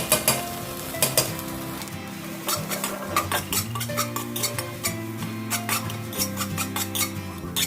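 Fragrant Thai chilli paste fries in a little oil for northern-style dry beef stir-fry, a close, steady sizzle punctuated by rhythmic scraping and clinking of a spatula against the pan.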